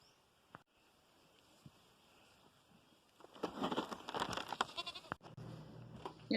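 Goats on a farm bleating a few times in a quiet outdoor setting, faint at first and then louder and closer with several wavering calls in the second half.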